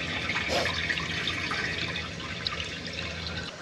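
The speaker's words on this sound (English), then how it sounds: "We're doing a flush test here. Make sure that we're leak free." Water rushes steadily through newly installed plumbing during a leak-free flush test after a check valve was fitted, a continuous close hiss with no speech.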